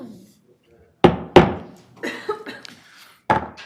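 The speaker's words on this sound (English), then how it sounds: "I never bang my gavel in the courtroom, only when I come here." A chief judge's wooden gavel banged at a county board of commissioners meeting: two sharp, close knocks about a third of a second apart, then another single knock a couple of seconds later, with a voice speaking between them.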